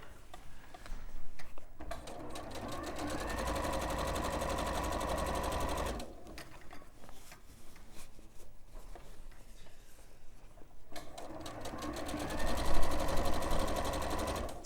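Domestic sewing machine stitching cushion fabric with normal thread and needle, a steady rapid mechanical whir in two running stretches separated by a quieter pause.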